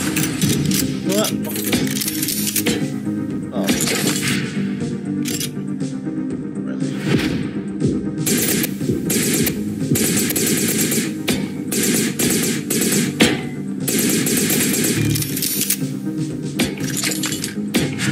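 Rapid gunfire from bots in the video game Neon Knights, dense bursts of shots crackling continuously over game music and effects, with a player talking throughout.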